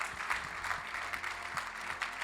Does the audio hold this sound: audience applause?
yes